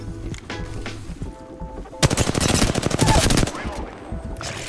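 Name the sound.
gunfire in a shooting video game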